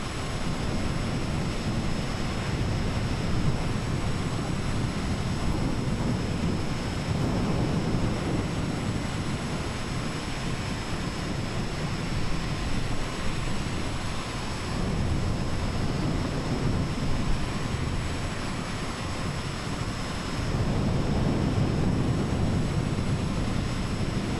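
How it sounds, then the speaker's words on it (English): Storm ambience in Microsoft Flight Simulator: a continuous roar of wind and rushing noise with a low rumble, steady and loud throughout, swelling slightly in places, with no voices. "It actually sounds like you're in a storm as well."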